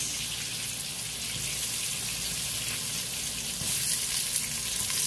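Onion sizzles in a pan with a steady, dense close crackle that swells slightly near the end, no speech over it.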